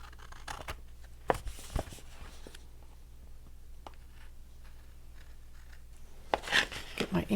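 Paper being trimmed with scissors while making a boxfold card, a few short crisp snips spread out over a quiet stretch, close and soft, with a second cluster of cuts near the end.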